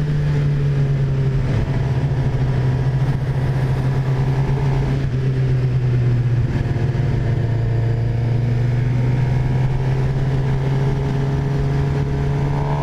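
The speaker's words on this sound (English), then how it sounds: "This is a good sounding bike." A 2018 Suzuki GSX-R750 sportbike on a ride, its engine holding a loud, continuous mid-pitched hum with small shifts in pitch, heard close up with wind noise and no talk.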